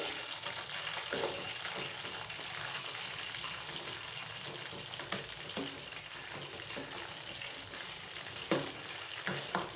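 Chicken frying in hot oil gives a steady, dense sizzle and crackle that runs unbroken with occasional sharper pops and faint stirring sounds, close and continuous with no talking.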